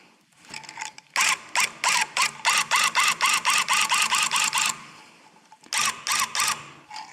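A handheld tufting gun fires stitch after stitch into tufting cloth, a rapid mechanical ratcheting clatter in even bursts, a long run of about a dozen pulses, a pause, then a shorter run of four, close and loud.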